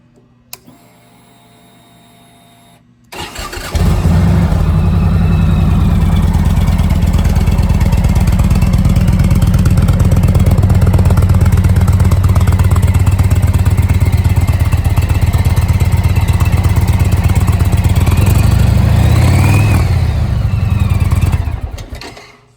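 A black 2017 Indian Springfield Thunder motorcycle, keyless with push-button start, fires up after a few quiet seconds and runs loud and close with a deep steady idle, swelling briefly with revs near the end before shutting off.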